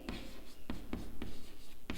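Chalk tapping and scraping on a classroom board during a physics lesson on collisions, a few sharp separate strokes at an uneven rhythm, close and clear with no talk over them.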